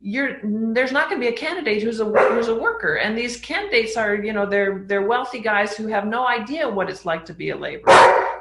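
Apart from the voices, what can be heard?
dog barking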